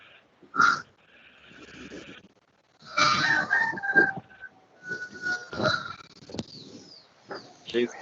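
A chicken loose in a classroom clucks and crows in several loud bursts, with quiet gaps between calls and some voices murmuring in the background.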